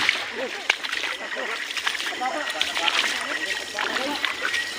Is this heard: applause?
no